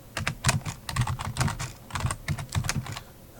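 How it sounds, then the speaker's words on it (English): Fingers tap out Ruby commands on a computer keyboard in quick, uneven bursts of close, crisp keystrokes with brief pauses between clusters. "I can type my Ruby commands"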